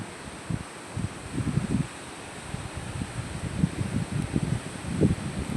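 Strong wind gusting on Lakshadweep, the island where a house is being built, with pillar work paused because of it. Steady broadband rush with uneven low buffeting gusts, close to the microphone and without voices.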